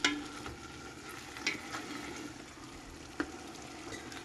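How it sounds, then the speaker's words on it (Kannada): Chicken and onions being stirred in a pan while frying for Andhra-style chilli chicken give a soft, steady sizzle with a few louder scrapes and clacks of the spoon, close and alone without talk. "ಸ್ವಲ್ಪ ಆನಿಯನ್ನು ನೀರು ಬಿಡೋ ತನಕ ಕೆಳಗಡೆ ಮೇಲ್ಗಡೆ ಮಾಡ್ಕೋಬೇಕು ಚಿಕನ್ನ"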